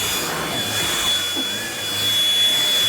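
Bissell Pet Hair Eraser lithium-ion cordless hand vacuum running steadily at close range, a continuous whining motor hum with a faint high tone, swelling slightly toward the end.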